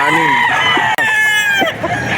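A rooster crows loudly and close at the Bocaue auction market in Bulacan, a single long call with a brief break near the middle, while other birds cluck faintly around it.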